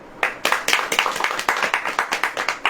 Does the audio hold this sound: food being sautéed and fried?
no